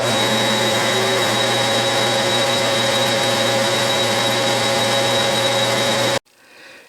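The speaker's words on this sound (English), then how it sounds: "now I'm going to drill 5/16 all the way through" A lathe drilling a 5/16 inch hole through a metal workpiece, a loud, steady machine whine with a constant hum, running close and unbroken for about six seconds before cutting off abruptly into near silence.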